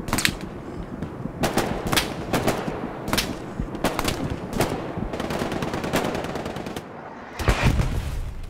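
Machine gun fire in the World War II shooter game Hell Let Loose, set in Hurtgen Forest, with rapid bursts and scattered single shots over a constant battlefield din, one loud close burst near the end.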